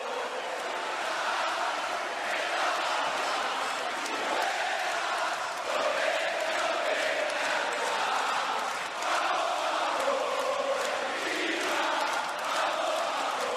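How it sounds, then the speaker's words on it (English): Basketball arena crowd at the 2011 Americup semi-final between Argentina and Puerto Rico, a sustained loud roar of voices and shouting that stays dense and steady throughout. "And the crowd goes crazy."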